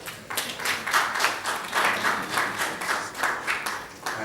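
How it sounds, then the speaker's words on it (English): Attendees at a CSR awards workshop give a modest round of applause, clapping in uneven pulsing waves that hold steady for a few seconds. "I think she deserves an applause, please."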